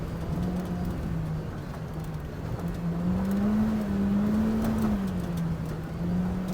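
A Polaris RZR Pro R 4 side-by-side drives over rough ground with giant whoops, its engine a steady, close, sustained drone that rises and falls slightly in pitch, with no talk over it.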